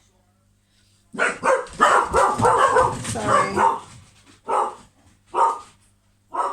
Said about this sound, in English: the alert barking of my hounds